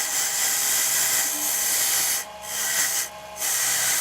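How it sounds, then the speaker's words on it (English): Jewelry is held against a spinning JOOLTOOL bristle polishing wheel, making a steady, bright, close hiss that briefly dips twice as the piece is lifted away. "I hold it right up against the wheel, and I make sure those little bristles like sweep into all the nooks and crannies"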